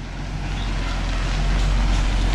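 Happy Home Borewell drilling truck in Rajapur arrives with a steady, heavy diesel engine rumble that swells slightly as it draws near.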